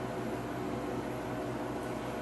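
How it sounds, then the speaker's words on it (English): A freeze dryer runs its freezing cycle with a steady, low mechanical hum and broad compressor hiss, constant and unchanging, fairly quiet and close by. "And now the freeze dryer is freezing."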